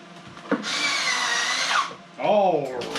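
Power drill driving screws into a rolling garage cart, with a short knock and then a sustained whirring run, a pause, and a second brief drill burst that rises and falls in pitch.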